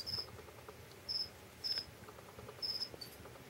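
Cricket chirping in a quiet room: four brief high trills spaced irregularly over a few seconds, faint against low background hiss.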